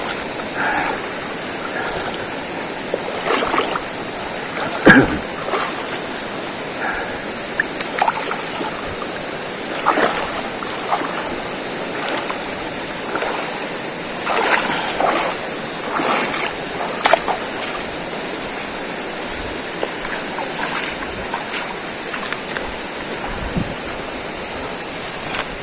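Wading across a forest river, water rushes and gurgles steadily while scattered splashes and sloshing footsteps break through, the flow sounding close and continuous with no clear speech.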